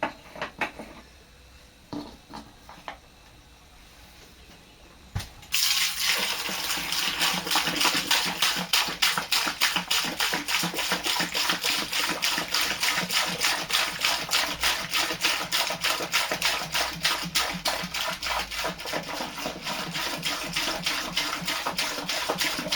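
Fresh wort pours steadily into a plastic fermenter bucket for a beer kit, a loud continuous splashing that starts abruptly after a few seconds of quiet handling noises and runs on without talk.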